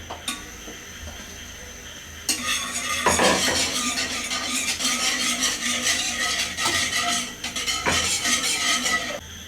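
A cornflour halwa mixture being stirred over high heat in a pan, with a metal spoon scraping and knocking against the pan in busy repeated strokes over a faint bubbling sizzle, close and steady.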